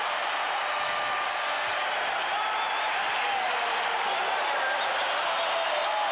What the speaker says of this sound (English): They are standing and cheering the Bulls, who with a late drive have taken a 30-29 lead on the Lakers